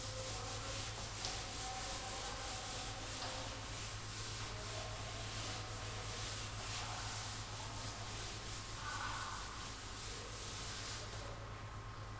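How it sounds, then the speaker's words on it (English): Steady, even scrubbing of a board being rubbed clean in a classroom, a continuous broadband rasp with a constant low hum running underneath and no talk over it. "I am going to rub the board"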